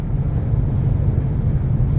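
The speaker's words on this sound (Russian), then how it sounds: "И ветер так дует, прям машину сносит." A steady low roar of strong wind blows against the microphone, constant and fairly loud with no voices.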